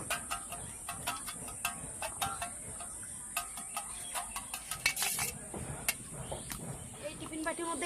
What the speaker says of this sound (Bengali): এবার এই লবণ দিয়ে ডিমটা ভালো করে ফাটিয়ে নেব।